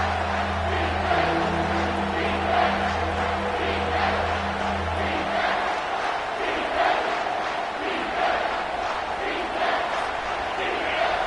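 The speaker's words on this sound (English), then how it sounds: "Here comes this home crowd as the defense tries to get off the field on third down" A home crowd at a football game roars steadily in a large stadium, a dense sustained wash of cheering and shouting while a low hum under the crowd fades out about halfway through.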